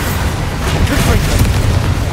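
A fiery Confringo spell explodes in the Hogwarts Legacy video game, a loud, close booming blast that rolls into a sustained rumbling roar across the whole moment.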